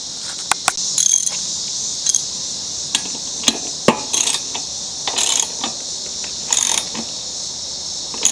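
Close clicking of a big socket wrench ratcheting a nut onto the starter cup of a Troy-Bilt lawn mower, sharp irregular ticks interspersed with short bursts of rapid ratchet whirring.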